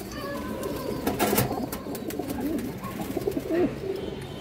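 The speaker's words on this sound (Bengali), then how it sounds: "সেকেন্ড লাইনের একটা নর কবুতর, খুব সুন্দর একটা কবুতর মাশাআল্লাহ" Pigeons in a loft holding high-flyer and Giribaz birds coo steadily in soft, overlapping murmurs, with a few louder close calls and scattered chirps over a faint room hum.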